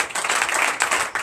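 A congregation at a Sunday church service in Benin claps in acclamation, a short, dense burst of applause that rises and falls in quick waves.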